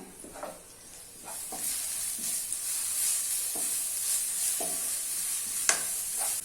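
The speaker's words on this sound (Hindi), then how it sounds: "अभी इसमें ग्रीन मसाला ऐड कर लेना है और मिक्स कर लेना है।" Green masala being stirred into golden onions frying in a pan over a medium flame, with a steady sizzle and hiss and several distinct scraping stirs at irregular intervals, no talking.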